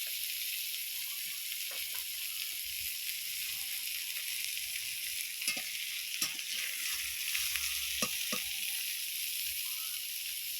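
Fried yukti flowers being lifted from a pan with a metal spatula: a soft, continuous oil sizzle with a few scattered scrapes and clinks, quiet and without voices.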